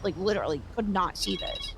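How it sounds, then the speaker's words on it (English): A phone alarm going off at the end, a high tonal ringing that enters after the talking stops, fairly clear and close, following a voice speaking just before. "Sorry, that was my phone alarm."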